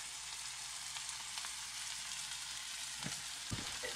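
Seasoned brown trout frying in a cast iron skillet, a steady, dense sizzle and crackle throughout, with a couple of brief scraping or stirring touches near the end.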